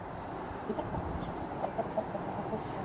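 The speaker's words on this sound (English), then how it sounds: "Neighbours' hens." Hens cluck softly and intermittently at a moderate distance on an allotment, over a steady outdoor background hum.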